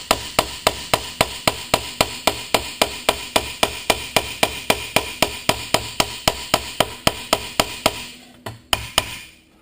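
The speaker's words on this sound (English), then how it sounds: "So I've got my flat edge hammer here, and it's not going to take much." A flat edge hammer strikes rapidly along a steel weld on a two-stroke exhaust pipe, about thirty sharp ringing metallic blows in a steady fast rhythm, close and loud, then a few final taps.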